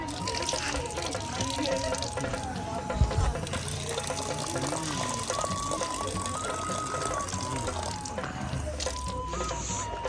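Glacier-fed spring water in Hunza Valley, Pakistan, runs in a steady, continuous stream, like a tap filling a vessel, throughout the clip with faint voices in the background.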